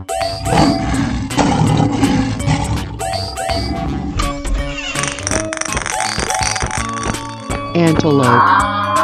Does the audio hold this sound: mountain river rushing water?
no